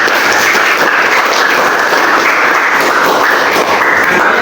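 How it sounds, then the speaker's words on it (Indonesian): A classroom full of students claps together in steady, dense applause that holds at an even, loud level throughout with no pauses. "tepuk tangan dulu ya"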